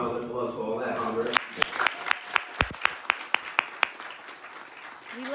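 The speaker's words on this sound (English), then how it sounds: "So I just want to give her a round of applause for all that hard work." Applause at a bowling hall of fame induction ceremony, beginning after a voice and building into steady crowd clapping with a regular series of sharp, loud claps standing out near the microphone, fading toward the end.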